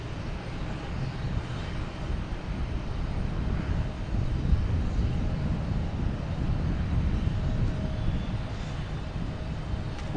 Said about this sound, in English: we have a JetBlue coming in from London, an A321neo on 27